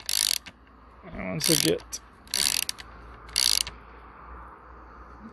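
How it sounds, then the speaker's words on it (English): Ratcheting clicks from a bearing press tool being cranked to pull a pivot bearing out of a bicycle rocker link, in several short bursts, with someone speaking briefly between them. "it will take a wee bit of force to get it going, but you can see this big washer here is getting pulled in tighter and tighter into the frame"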